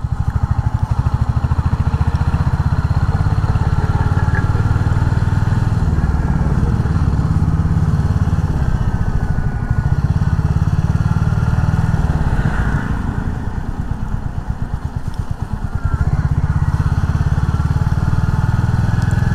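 A Royal Enfield Hunter 350 motorcycle climbs a winding mountain road, its engine thumping loud and continuous up close, with the note dipping and rising through the bends.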